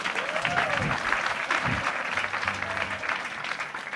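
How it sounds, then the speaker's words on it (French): An audience at a religious wedding applauds, a steady dense clapping from a crowd that lasts throughout, with a voice briefly heard over it. "On acclame Igwe."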